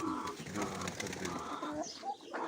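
Pigeons coo in soft, repeated throaty calls against a steady outdoor background.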